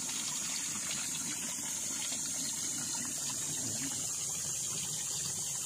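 Spring water flows steadily out of the ground beside a river on a farm lot in Calauan, Laguna, during the dry May season. It makes a continuous loud gushing, broadband rush that stays even throughout, with no voices.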